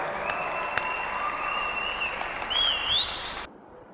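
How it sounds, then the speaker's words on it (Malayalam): Steady applause from an audience, continuous and fairly loud, with a faint whistle-like tone rising near the end before it cuts off abruptly. "എന്താ കയ്യടി കിട്ടിയെന്ന് നിങ്ങൾ കേട്ടല്ലോ"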